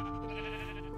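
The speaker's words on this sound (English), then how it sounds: "Sheep?" A single Minecraft sheep bleats, a short wavering tone held for about a second, clear and close.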